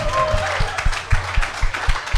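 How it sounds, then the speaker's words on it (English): A short burst of audience applause at a live Packers clubhouse event, with dense clapping and a few sharper claps close by under some crowd voices. "How about a big round of applause?"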